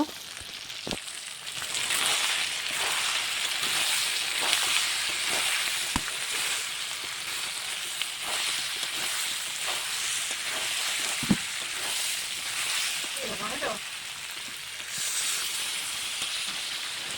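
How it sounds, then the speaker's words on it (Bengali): Meat fries in spiced oil in a pan for a pumpkin-stem curry, giving a loud continuous sizzle with occasional scraping clicks of stirring, close and steady throughout. "মাংসটা ভালো করে নেড়ে নিয়েছি"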